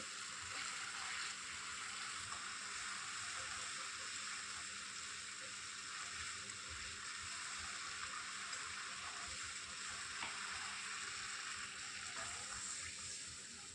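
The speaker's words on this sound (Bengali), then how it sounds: "আমার মশলা মোটামুটি কষানো হয়ে গেছে, আর একটু নাড়াচাড়া করে নেব।" Spice paste for tilapia curry fries in oil while being stirred, a faint, steady hiss and soft sizzle running continuously with low scraping underneath.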